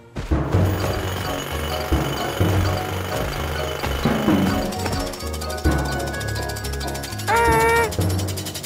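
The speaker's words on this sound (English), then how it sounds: "We need to stop that drill, Morphle." In a scene from the cartoon My Magic Pet Morphle, a big drill pounds away in rapid, harsh, continuous bursts over a busy mix of music and machinery, all loud and dense throughout.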